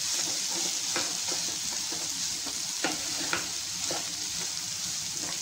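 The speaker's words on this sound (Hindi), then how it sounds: "अब इन सारी चीज़ों को हम टॉस करके मिक्स कर लेंगे।" Fried rice sizzles steadily in a hot pan while being tossed and stirred, with scattered scraping and clinking of the spoon against the metal throughout.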